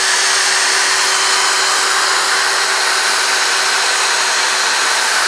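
Cordless drill or screwdriver spinning a T8 lead screw clamped in its chuck, a loud steady high-pitched whir that holds constant throughout with no pauses and no speech.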